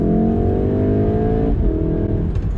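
Volkswagen Golf R MK7.5 pulling away hard from a stop, its engine note rising steadily then dropping briefly at a gear change before climbing again, loud and heard from inside the car.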